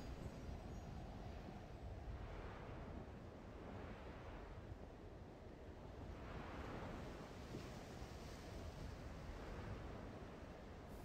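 Ocean surf near a waterfall in the video game Sky: Children of the Light, a soft, steady wash of waves swelling gently every couple of seconds, faint and distant with a windy hiss and no voices.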